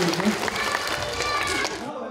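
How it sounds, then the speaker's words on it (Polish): A small audience applauds Iga, a young child at a municipal culture-centre theatre event for preschoolers, with scattered clapping under a speaking voice for about two seconds. "Wielkie brawa dla Igi!"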